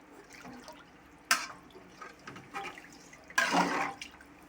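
Meat-cooking water poured into a pot of beef biryani rice lands in two brief, loud splashing bursts separated by quieter stirring and dripping sounds, close by in a kitchen.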